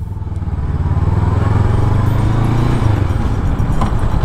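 Honda NX 500 motorcycle engine pulling away, a steady loud low drone with a rising note that holds throughout, recorded close with wind rumble.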